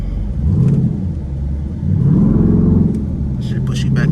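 Straight-piped Dodge Durango SRT engine rumbling low and loud, swelling into a heavier rev and acceleration partway through, with a voice talking over the droning exhaust.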